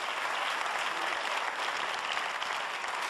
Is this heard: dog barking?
no